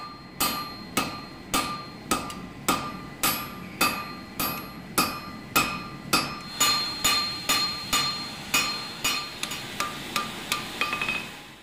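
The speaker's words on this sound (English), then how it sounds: "I just kind of control where the volume of the material is moving by switching from the cross beam, the straight edge of the hammer, and the flat side of the hammer" Hammer forging a Damascus steel knife blade, with about twenty loud ringing metal strikes in a steady, even rhythm, each blow leaving a short bright ring, close and with no talk.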